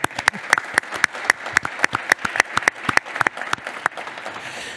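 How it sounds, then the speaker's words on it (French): A small studio audience claps, with sharp, distinct hand claps in an uneven rhythm that thins toward the end, heard close and clear. "Applaudissements."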